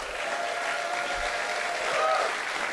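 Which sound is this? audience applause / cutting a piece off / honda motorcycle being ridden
audience applause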